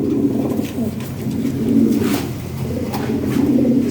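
Lahori Sirazi pigeons coo in a steady, overlapping chorus of low, throaty rolling calls, close by and fairly loud, continuing through the clip with faint rustling and no speech.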